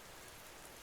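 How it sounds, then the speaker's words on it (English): Soft, steady rain falls outside a teahouse on a night in old Kyoto, a faint, even hiss with no distinct drops or other sounds standing out. "Outside, rain continues its patient rhythm."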